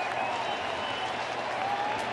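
Home crowd at Houston's park roaring and applauding during an Astros vs Yankees ALCS 2019 Game 3 baseball game, a loud, steady wash of cheering that holds without a break.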